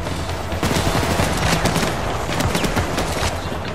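Heavy gunfire from a shootout with police in Payday 2, loud and sustained, with many overlapping shots forming a continuous barrage that does not let up.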